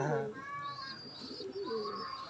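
High-flying pigeons coo in a loft, with several soft throaty calls close by and a few higher chirps mixed in.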